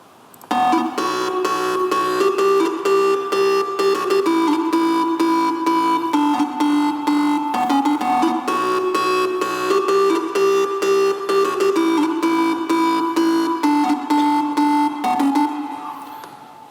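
A synth top lead for an electronic track intro, a bright steady melody with triplet note figures and a pulsing rhythmic texture, loud and continuous for about fifteen seconds before fading.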